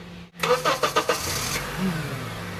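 A car engine cranks and catches with a few rhythmic turnover pulses, then settles into a steady mid-pitched idle, close and fairly loud, before being driven over a Halloween costume.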